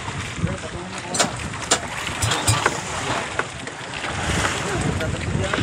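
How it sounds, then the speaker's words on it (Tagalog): Strong northeast monsoon wind buffets a boat at sea, a constant loud rush of wind noise with splashing and occasional knocks, while people talk underneath. "At medyo lumakas na naman ang amihan."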